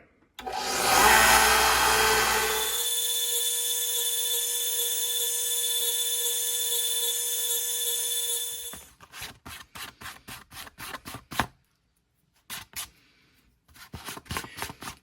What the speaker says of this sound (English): those cutters aren't exactly the best way to cut wood with, so we'll square them up with a sander